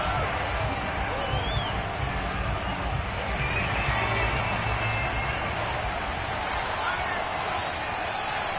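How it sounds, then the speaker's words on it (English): Football stadium crowd at an Eagles game shouting and murmuring as a replay is watched, a dense continuous roar of many voices with a commentator talking over it. "Plenty of shouts from this crowd as they watch the replay."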